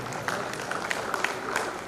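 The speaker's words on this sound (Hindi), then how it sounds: "जोरदार ताली बजाएं, जोरदार करतध्वनि करें।" Audience applause at a spiritual camp gathering in Sambhaji Nagar: a steady wash of many hands clapping at once, with sharper claps popping out here and there and faint voices mixed in.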